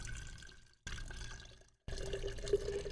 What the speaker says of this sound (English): I'm just gonna pour it in here so you guys can see